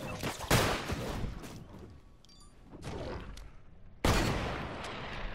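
Video game gunfire in an intense multiplayer firefight: loud bursts of rapid shots come at the start and again near the end, with quieter crackling exchanges between them and no clear talk.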